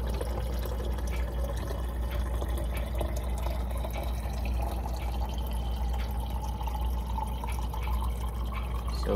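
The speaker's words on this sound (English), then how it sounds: "let's just put some water in here" Water running into a yellow and gold water bottle, a steady close trickling and filling sound with small drips over a low constant hum, no talk.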